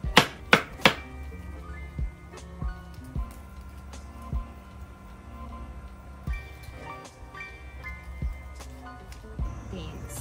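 A knife chops carrots for a Vietnamese-style vegetarian hotpot: a quick burst of sharp cuts at the start, then scattered single chops, close and crisp over steady background music.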